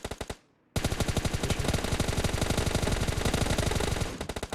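Sustained rapid automatic gunfire in PUBG Mobile Lite, a brief burst, a short gap, then a long, loud, evenly paced stream of close shots with no talking.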